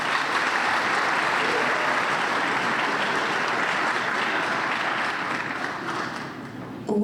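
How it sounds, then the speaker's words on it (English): A dense, steady wash of audience applause at a Boston 250 launch event at the Henry Knox Trail stop in Roxbury, holding for several seconds before thinning out near the end. "Please give another round of applause."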